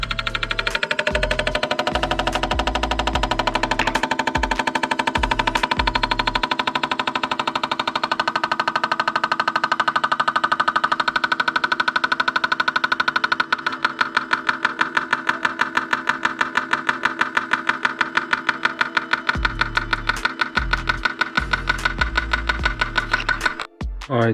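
Fuel injectors on a rail run an idle flow test on a cleaning and flow-testing machine, giving a steady mechanical drone with a low pulsing. Partway through it turns into a rapid, even ticking that carries on to the end.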